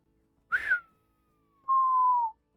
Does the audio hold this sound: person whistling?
yes